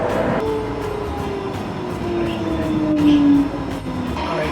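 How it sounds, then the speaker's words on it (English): Riding a tram in Gdańsk, Poland: a steady rolling rumble with a rising and falling wheel whine and rhythmic clicks over rail joints, heard from inside the car, no talk. "It's time to jump on the tram and get some food."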